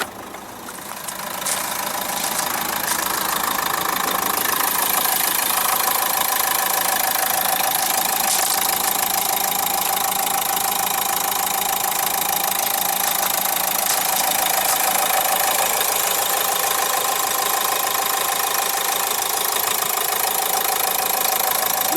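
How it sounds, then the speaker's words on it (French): A Renault Mégane III Coupé GT Line's 110-horsepower dCi diesel engine idles steadily with a busy, rattling mechanical clatter, close and continuous after a brief quieter start. "c'est un moteur diesel DCI 110 chevaux"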